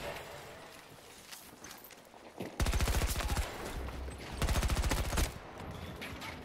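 Shotgun fire in the video game Battlefield 2042, two loud bursts of rapid blasts standing out over steady background game noise, close and heavy.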